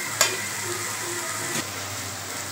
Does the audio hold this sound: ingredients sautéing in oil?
yes